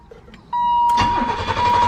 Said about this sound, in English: Oh, it actually cranks pretty nicely.